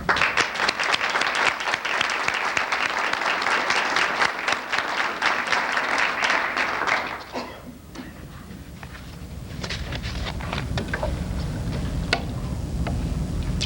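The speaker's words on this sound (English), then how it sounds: "join me in a round of applause to the faculty of the College of Education" Auditorium audience applauding the College of Education faculty at a 1993 dedication ceremony, dense loud clapping that fades out after about seven seconds into quieter room noise and light shuffling.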